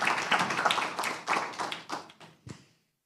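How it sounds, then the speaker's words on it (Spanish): Audience applause at a panel event on electoral rules, brisk clapping from a modest crowd that fades out after a few seconds. "para quien también pido un fortísimo aplauso"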